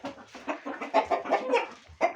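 Chickens cluck close by in a rapid, uneven series of short calls, with no talking over them.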